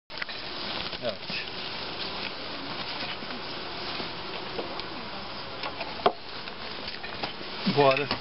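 Honeybees buzz steadily around a hive during a colony check and winter preparation, a close, continuous drone with small ticks and knocks from handling the frames, and voices faintly underneath.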